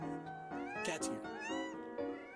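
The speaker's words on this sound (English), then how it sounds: "Cat's here." A house cat meowing repeatedly at close range, several drawn-out meows in quick succession with one sharper, higher cry in the middle.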